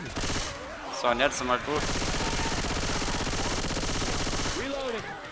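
Sustained automatic gunfire from the Left 4 Dead 2 video game, a dense rapid rattle of shots running for several seconds, with someone talking briefly over the opening and again near the end.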